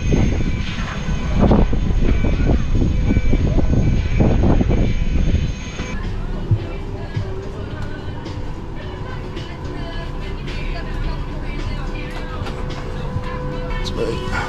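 Steady broadband roar of airliner engines inside the cabin on a flight to Tenerife, loud and continuous, heavier and rumbling in the first half before settling to a smoother drone with faint clicks and movement.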